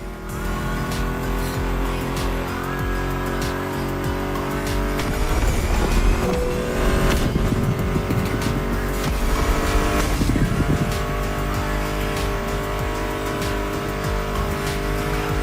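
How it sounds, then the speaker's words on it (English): Muscle car engines racing in the video game The Crew Motorfest, loud revving and droning engine tones with shifting pitch, tire squeals and skids in the middle, continuous throughout with background music. "Meshes well with the sound of the engines, you feel me?"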